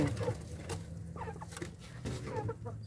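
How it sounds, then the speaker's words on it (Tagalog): Native chickens on a farm clucking softly amid light rustling and pattering, several short low clucks scattered throughout, near and fairly quiet. "Yung mga native chicken natin."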